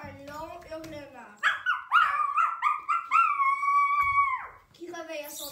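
A voice imitates a dog's long, rising howl, held for a couple of seconds between stretches of narrated speech.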